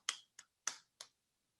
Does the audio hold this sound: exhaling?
no